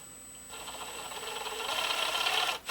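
An RC Humvee's electric motor spins up during a throttle test, a close, steady whirring whine that rises gradually in loudness over about two seconds before cutting off abruptly.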